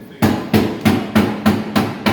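Hammer blows on Land Rover wheel arches in a repair workshop, seven loud, evenly spaced metallic strikes in steady rhythm, close and alone with no talk.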